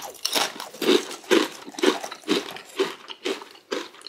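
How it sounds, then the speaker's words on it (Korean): Crunchy ghost pepper snack chips are bitten and chewed up close, producing about nine sharp, evenly spaced crunches in a steady rhythm with no talking. "과자 한번 먹어보겠습니다"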